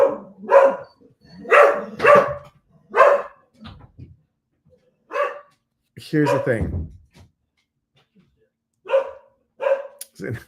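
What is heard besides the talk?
dogs barking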